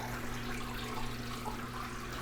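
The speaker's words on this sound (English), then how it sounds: "So you can hear water running." Water trickles steadily over the media pad of a Hessaire M18M evaporative cooler, a soft continuous wash over a low mechanical hum, quiet and even.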